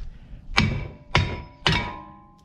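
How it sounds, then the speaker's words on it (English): Three loud, evenly spaced metallic hammer blows knock a stuck front brake rotor loose on a 2004-2010 Toyota Sienna, each strike ringing briefly before fading, with no talk. "If these screws are not here and it's still stuck, you get a hammer."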